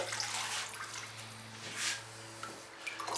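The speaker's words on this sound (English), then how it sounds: "I'm going to pour it out there" Raw pottery glaze pours and splashes in soft, watery bursts over a steady low hum, with a few louder gushes spread across a few seconds.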